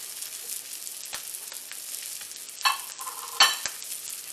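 Salmon fillets blacken in a pan over high heat, producing a continuous soft sizzle broken by a couple of sharper spatters and a clink of a utensil, with no talking.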